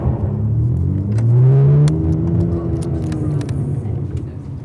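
A Ferrari Testarossa engine revs up and eases off during a test drive, a close, loud mid-pitched roar that climbs and then settles into a steady rumble.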